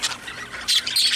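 Vulcan, a show bird from a breeding aviary, lets out loud, close, harsh squawks, two rasping bursts with no talking.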